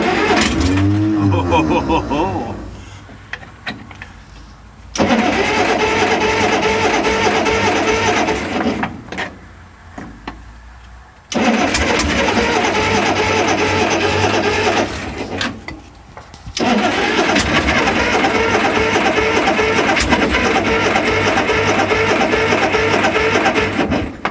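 Caterpillar 46A D8H dozer engine starting at half throttle with choke set, loud rough cranking and roaring bursts that cut out and restart several times, close by, with occasional voices.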